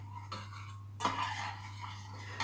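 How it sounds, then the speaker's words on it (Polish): An agar mixture is stirred in a pot on low heat, with soft scraping and clinking of a utensil against the pot, a sharper clink near the middle, over a steady low hum. "Na małe palenisko przerzucamy to i cały czas mieszamy"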